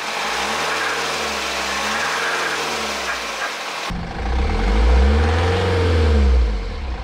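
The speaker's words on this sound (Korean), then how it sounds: "시운전 한번 하기 전에 엔진 소리 다시 한번 들어볼게요" A BMW X3 xDrive 20d diesel engine idles after turbocharger, timing-chain, water pump and belt replacement, a steady close mechanical clatter and hum that swells briefly as revs rise and settle, with no voices.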